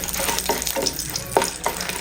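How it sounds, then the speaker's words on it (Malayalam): About ten dried red chillies roast in leftover oil from frying fish, giving a steady close sizzle with crackling pops and spoon stirring. "മീൻ ഫ്രൈ ചെയ്തെടുത്തിട്ട് ബാക്കിയുള്ള എണ്ണയിൽ ഒരു 10 വറ്റൽമുളക് ഇട്ട് ഒന്ന് റോസ്റ്റ് ചെയ്തെടുക്കാം."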